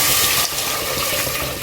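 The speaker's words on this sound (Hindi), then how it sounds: "और इसमें मैं डालूँगी 1 लीटर पानी" One litre of water gushing loudly into a cooking pot of browned chicken pieces for chicken yakhni soup, a strong hissing pour that eases slightly after the start and runs on steadily, close up.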